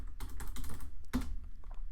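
Quick keystrokes on a computer keyboard clatter in short bursts, close and fairly soft, as a command is entered in a terminal.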